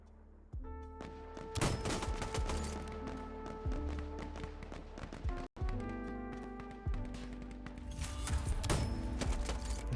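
Gunfire in the video game Insurgency Sandstorm comes as sharp shots and bursts over several seconds, with overlapping reports and game effects.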